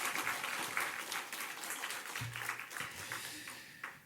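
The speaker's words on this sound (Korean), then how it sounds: "축복의 박수 힘차게 한번 합시다." A church congregation at a Korean early-morning service claps in blessing, a brisk, fairly quiet burst of many hands that carries on evenly through the room.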